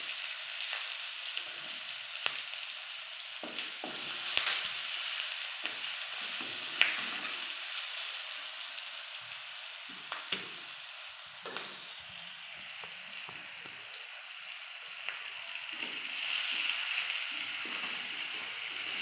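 Chopped onions frying in oil in a pan until reddish, a continuous soft crackling sizzle with occasional stirring taps, steady and close with no voices.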